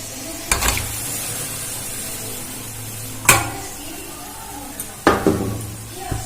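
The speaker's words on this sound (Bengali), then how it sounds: "এখন আমি এর মধ্যে ম্যারিনেট করা মাংসটা দিয়ে দেব।" Marinated chicken fries in masala with a steady sizzle, broken by three sharp spatula scrapes and clanks against the pan, all close.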